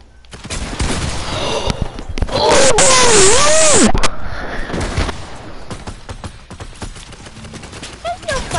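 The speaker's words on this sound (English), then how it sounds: "I'm getting shot at by everyone" Video-game gunfire, rapid bursts and shots mixed with a whistling, sweeping effect, loud at times, under excited talk from several players.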